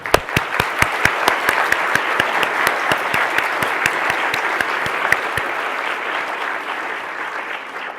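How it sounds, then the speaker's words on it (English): An audience applauds award subcommittee members who stand to be recognized, sharp distinct claps at first that thicken into sustained, even clapping from a modest crowd. "please stand up so that we can clap for you and recognize your hard work."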